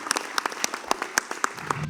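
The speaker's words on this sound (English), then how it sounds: "I'd like to give a round of applause to the Ambassador" Brief burst of scattered audience clapping at an annual general meeting of the American Chamber of Commerce in Sri Lanka, a few dozen irregular claps over roughly two seconds with a faint voice near the end.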